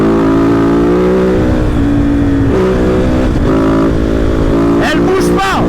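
A Kove Dakar rally motorcycle runs loud and close, its engine holding a steady drone with shifting pitch before a quick rising rev near the end, and a voice is heard over it.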